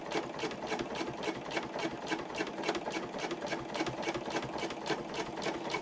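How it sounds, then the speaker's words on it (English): Sewing machine stitching a slip pocket onto a handbag, a fast, even mechanical whir with rapid needle clatter running steadily and up close throughout, no voices. "So I'm going to sew up the line."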